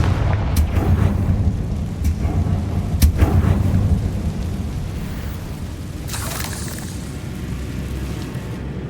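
A fiery Confringo spell blast from Hogwarts Legacy booms with a deep rumbling explosion, followed by sharp cracks and a long decaying roar of debris, loud and close.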